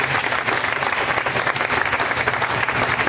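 A college faculty and staff assembly audience gives a round of applause for the event organizers, a sustained, even roar of many hands clapping in a large room for several seconds.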